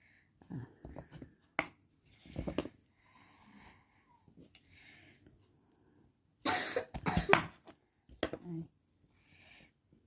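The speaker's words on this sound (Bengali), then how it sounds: "ঠিক এরকম করে কেটে নেব ওলগুলিকে ছোটো ছোটো করে" Knife cutting peeled elephant foot yam into small pieces for a vegetarian curry, heard as scattered dull cuts and thuds, with one clustered burst of heavier chopping, separated by quiet gaps.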